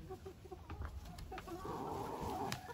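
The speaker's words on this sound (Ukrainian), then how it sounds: "біленька курочка, а це півник фавіроль, красунчик який хазяйнує" A Faverolles rooster and white Lohmann laying hens cluck softly in a backyard coop, a few quiet scattered calls close by with a faint constant hiss behind them.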